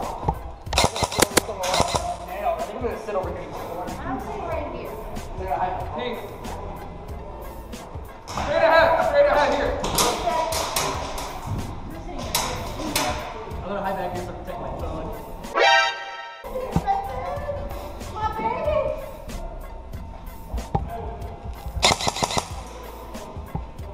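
Airsoft guns firing during an indoor airsoft skirmish, sharp snapping shots in bursts and singles with pellet impacts, players talking and shouting over the action.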